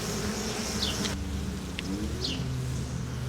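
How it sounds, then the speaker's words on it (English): A steady low buzzing of a couple thousand bees on a wooden spool hums throughout, close and continuous, with no talking. "Not a great big colony, but probably a couple thousand bees or so."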